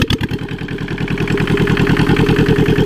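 A Lister Petter diesel engine runs close and loud, its steady rapid chugging firing pulses settling into an even idle after a brief uneven start.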